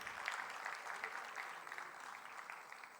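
An audience at a literary foundation's inauguration session applauds as a guest is welcomed to the stage, a steady, dense wash of clapping from many hands that holds at even loudness throughout.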